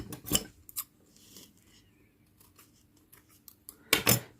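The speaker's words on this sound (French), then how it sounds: "je coupe le fil" Scissors snip through yarn while finishing a crocheted amigurumi tiger keychain, giving two crisp cuts near the start and a louder double snip at the end, with quiet handling in between and no talking.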